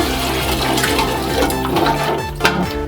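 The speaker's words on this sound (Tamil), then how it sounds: "ஸோ நம்ம தண்ணி ஊற்றியாச்சு இப்போது." Water poured into a pot for biryani, about two litres for a kilo of rice, a steady continuous splashing stream, close and fairly loud, with no speech.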